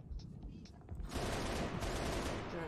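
Turret gunfire in Halo: Reach erupts after a quieter second as a loud, continuous rapid burst of shots that holds steady until the end, with a voice heard faintly underneath.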